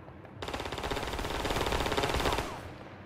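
Automatic gunfire in the Roblox game, heard as a steady rattling burst of about two seconds, moderately loud and somewhat washed out, with no talking.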